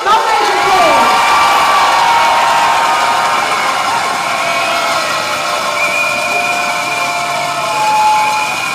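A large crowd at a nurses' rally in Perth cheers, claps and whoops in a loud, sustained burst that carries on without a break, with shouting voices mixed in.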